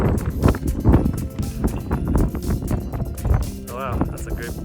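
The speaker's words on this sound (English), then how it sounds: "wind's picking up" Strong gusting wind buffets the microphone on a 13,000-foot mountain summit, loud and continuous, with people talking over it.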